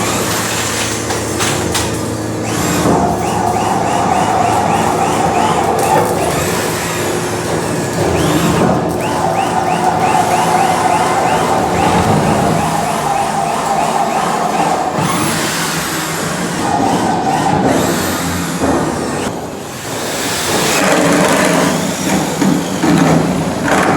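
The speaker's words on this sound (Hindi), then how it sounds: "सुराख कर रहे हैं बाई ड्रिल के साथ।" Power drill boring holes in a steel shipping container in a container workshop, loud and continuous machine noise with repeated bursts and clatter across the whole stretch, no talking.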